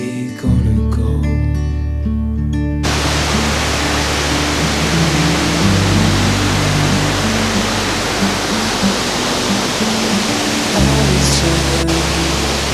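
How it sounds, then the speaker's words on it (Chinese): A tall, wide, vertical waterfall on a forest trail in Sanxia gives a loud, unbroken rushing roar heard up close. Background music plays over it, clearest in the first few seconds. "这个瀑布不管是垂直的高度，还是它的宽度，都很壮观。"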